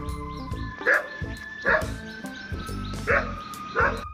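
A dog barks in a steady series of four or five loud, sharp woofs spaced evenly apart, close and clear over a soft musical backing.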